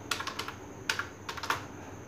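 Keys tapped on a computer keyboard while writing Arduino code, a quick run of light clicks in short bursts, close and fairly quiet with no voice.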